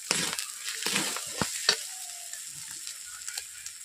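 Onions with salt, chili powder and turmeric stir-fry in a kadai, with a steady close sizzle broken by several sharp scraping stirs of a spatula against the pan.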